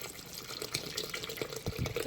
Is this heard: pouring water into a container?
yes